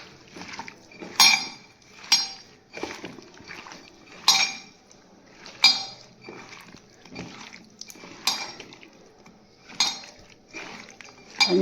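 Pickle is worked together with oil, salt and chili powder in a vessel, making a steady series of close metal clinks and scrapes, one roughly every second, with soft wet squelching between them.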